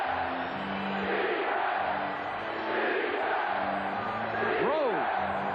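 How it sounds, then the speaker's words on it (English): A basketball arena crowd roars back to life late in a tense Indiana–New York playoff game, a sustained wash of cheering and yelling with a rising whoop near the end, heard under a commentator's voice. "Crowd is back in it."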